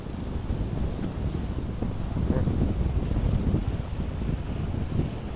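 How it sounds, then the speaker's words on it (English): Heavy wind buffeting a microphone fitted with a wind muff in Port Credit, Mississauga, a continuous low rumbling roar with gusts, outdoors with no voices. "oh, it is windy. I don't know if this wind muff is doing this any justice"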